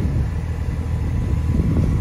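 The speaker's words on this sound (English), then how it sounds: "On the exterior, this has the sport exhaust. It sounds very, very nice," A 2024 Porsche 911 Carrera T with the sport exhaust gives a deep, steady engine rumble close by, with no talk over it.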